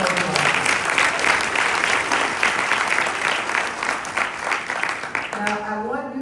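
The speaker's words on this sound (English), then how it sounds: "Give everybody a big round of applause." An audience at an MLK Day event in Los Angeles breaks into sustained, dense applause, loud and steady for several seconds before tapering, with a voice speaking over it near the end.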